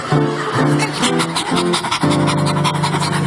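A voice mimics a drug-sniffing dog, a loud, close run of rapid panting sniffs in short bursts over a steady background hum at a church seminar.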